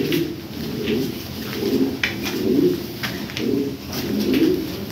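Pigeons kept for sale coo close by in repeated throaty phrases, roughly one every second, with faint rustles between.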